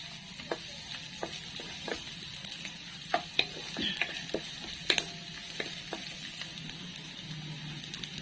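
Garlic and onion sautéing in a pan for vegetable lumpia, a steady soft sizzle with scattered crisp pops and occasional spatula scrapes and stirs, close and quiet, with no talking.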